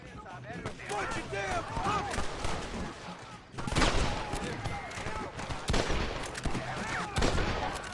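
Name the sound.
gunfire in Red Dead Redemption video game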